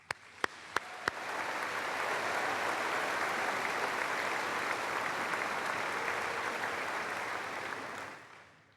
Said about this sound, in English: Let's end with a huge round of applause